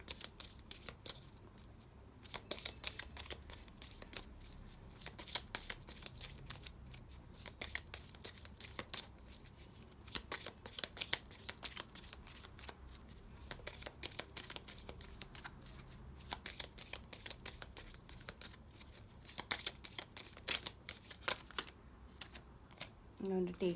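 Tarot spell cards being shuffled by hand in a soft, continuous riffling patter, close but quiet, with occasional brief rustles.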